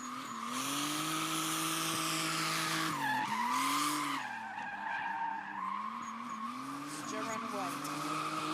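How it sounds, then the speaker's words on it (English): BMW 535 drifting at a car event, long sustained tire squeal and skidding with the engine wailing and shifting pitch, loud and continuous. "He's coming in with his BMW"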